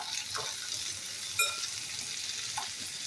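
Crab masala fries in a pan for a khekda fry, giving a soft, continuous sizzle with a couple of faint clinks from stirring, and no voices.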